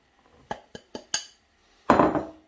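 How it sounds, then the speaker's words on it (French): A whisk mixes flour and salt into brioche dough in a bowl. Four quick, light metallic clinks are followed by a longer, louder scraping swish, all close by and without talk. "je mélange avec le fouet dans un premier temps"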